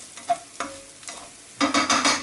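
Spices and onions for kheema mattar frying in a pan over low heat: a few separate scraping stirs, then a louder, continuous sizzle near the end.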